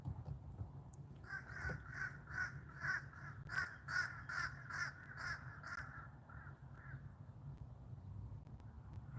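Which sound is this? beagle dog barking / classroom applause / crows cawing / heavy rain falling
crows cawing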